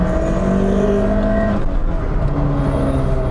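A 1992 Lancia Delta HF Integrale Evo 1 rally car's engine runs loud and steady, with its pitch holding and then shifting partway through as it revs under load.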